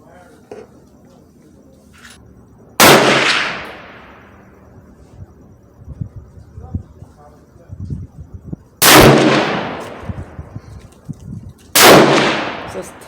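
Three sharp, loud gunshots from a Savage 7mm Remington Magnum rifle crack out at an outdoor range, each followed by a long decaying echo, with quiet handling noises and faint movement between shots.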